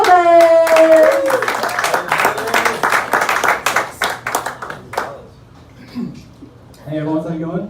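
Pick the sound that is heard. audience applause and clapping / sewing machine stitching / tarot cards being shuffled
audience applause and clapping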